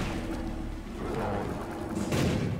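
A self-destruct explosion from the video game The Binding of Isaac: Afterbirth, a single dull, rumbling burst that fills the short moment and fades without any following talk.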